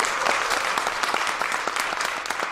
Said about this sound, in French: on peut applaudir très chaleureusement.